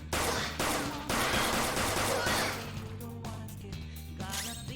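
Gun attack in the video game Persona 5 Royal, a rapid burst of loud gunfire shots in quick succession followed by crashing impact effects and softer mechanical game sounds trailing off.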